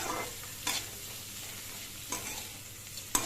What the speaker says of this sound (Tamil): இந்த காம்பு நல்லா வதங்கணுங்க